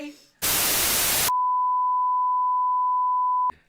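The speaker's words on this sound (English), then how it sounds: "That was my ringtone in high school." A steady electronic phone ringtone tone holds at one pitch for about two seconds, loud and alone, following a burst of static-like noise.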